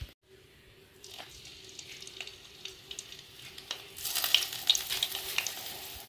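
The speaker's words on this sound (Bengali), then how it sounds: "মা এখন এদিকে বেগুন ভাজা করছে" Eggplant (brinjal) slices fry in a home kitchen pan with a steady, close sizzle that swells louder and brighter in the final couple of seconds, with no voices.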